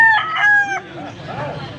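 A single close, loud crow from a bull stag rooster at a rain-soaked gamefowl market in Angeles, Pampanga rings out, then fades into softer clucks and low murmuring.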